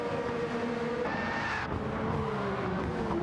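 A 1966-style Grand Prix race car in a racing video game loses its rear end under braking: a loud, steady engine roar with a shifting whine and tyre-skid squeal, close and continuous, with no talk.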